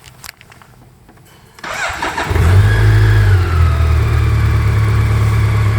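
A BMW K1200 LT Lux SE motorcycle engine cranks over after a quiet start, then catches and settles into a loud, steady, smooth idle close by, with a slight rev near the end.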